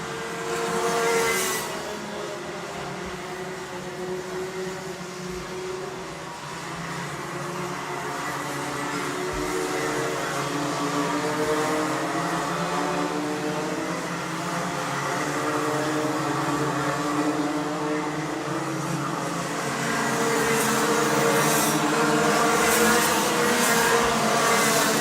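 Racing karts at a Rotax Festival and Honda Cadet Cup race meeting roar past on the track, engine drone building and swelling steadily, loud and close for the whole stretch with no talk.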